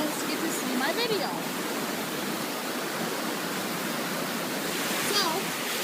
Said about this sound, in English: Waterfalls overhead.